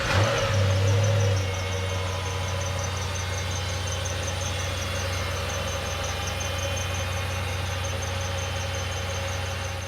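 A 2009 Dodge Challenger engine cranks and catches with a loud burst, then settles into a steady, close-up idle with a deep rumble that holds to the end. A faint high whine runs over the top.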